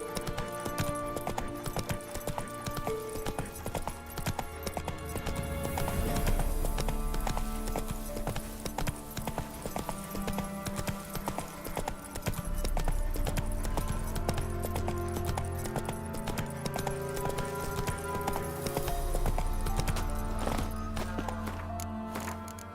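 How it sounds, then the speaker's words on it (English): A horse trots in The Witcher 3, hooves clip-clopping in a steady rhythm under game music throughout, close and continuous with no talk. "Whoa there, Roach"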